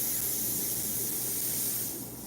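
Airbrush spraying orange paint lightly onto a golden ocean sunset painting, a steady close hiss of air and paint that holds evenly and eases off slightly at the end.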